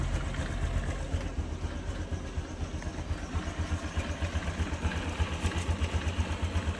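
A Honda Click 125 scooter engine idles steadily after an oil change, a close, even mechanical putter with a light rhythmic clatter and no one talking.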